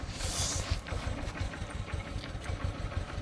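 A motorbike engine runs steadily while riding on a cold road, a low rhythmic throbbing hum with wind rush over it and no talking.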